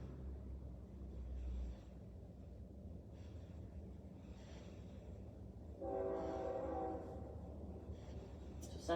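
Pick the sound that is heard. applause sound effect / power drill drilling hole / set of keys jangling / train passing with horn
train passing with horn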